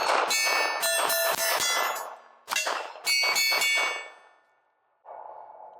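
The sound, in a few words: Beretta 80X Cheetah pistol decocker being set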